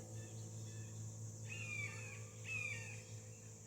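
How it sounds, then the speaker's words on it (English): Two thin, descending hawk cries, faint and distant, rise over a steady outdoor hum with insect-like background noise and no talking. "I do hope you can hear that hawk."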